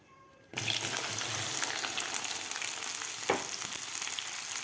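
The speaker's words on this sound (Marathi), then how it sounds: "आता भेंडे आपल्याला दोन ते तीन मिनिट याला फ्राय करून घ्यायचं आहे तेलामध्ये" Okra hits hot oil and bursts into a loud, steady sizzle that continues without pause, with one brief clatter partway through.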